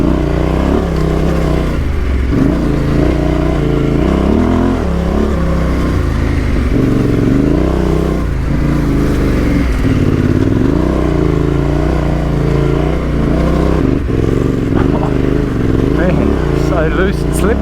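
A Yamaha Tenere 700 motorcycle climbing a steep, loose and slippery gravel road on Old Grafton Road, its engine labouring and revving unevenly with gravel clatter, accompanied by wind rumble and a rider talking intermittently.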